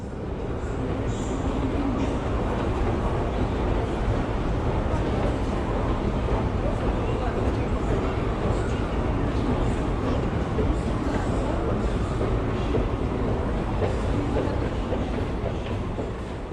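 Steady, loud rumble of a St. Petersburg, Russia metro train in motion underground, with continuous rattling and clattering throughout, and faint voices mixed in.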